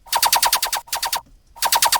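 A laser-beam synth stab run through saturator distortion repeats as rapid, bright, buzzy pulses in short bursts, with a brief gap in the middle. It is loud and upfront with no talking.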